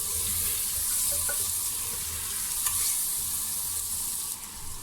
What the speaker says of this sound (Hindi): चिकन थोड़ा फ्राई हो गया, अब इसमें हल्दी डालेंगे, नमक भी डाल देंगे और इसको अच्छी तरह से भून लेंगे।